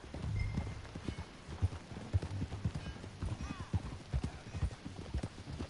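Horse hooves clip-clopping in the Western video game Red Dead Redemption 2, a steady rhythmic trot of close, dull thuds that runs throughout under intermittent character dialogue.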